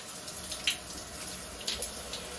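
Shower water runs while hair is washed, a steady close hiss of spray with a few brief splashy bursts and no talking.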